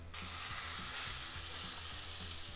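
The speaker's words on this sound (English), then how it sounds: "And we're just gonna cook this mixture down." White gravy seasoned with black pepper and salt bubbles in a skillet for chicken fried steak. A dense, continuous sizzle carries soft rhythmic stirring strokes, close and uninterrupted.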